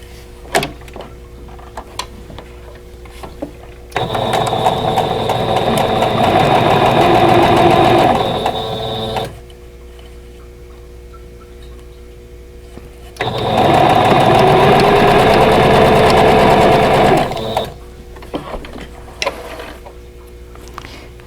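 A sewing machine stitches a seam on a quilt block in two steady runs of about five seconds each, loud and close, separated by quieter handling clicks.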